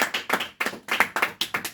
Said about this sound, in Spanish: Dale un fuerte aplauso que es para el Señor